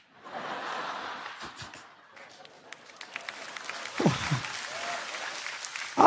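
A church congregation breaks into scattered applause that builds into a steady patter, mixed with some chuckling and brief voices near the end.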